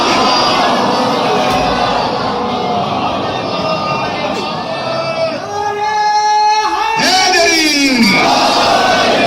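A large gathering at a Muharram majlis in Greater Noida calls out salawat together, a loud massed chant of many voices that swells and rises in unison, filling the space.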